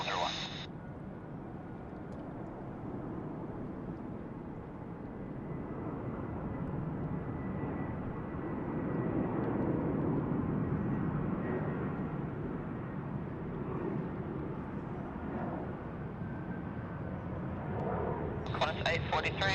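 An airliner takes off from runway 34 right at Sydney Airport, its broad jet roar swelling steadily and then easing, heard from a distance, with short radio voices at the start and end.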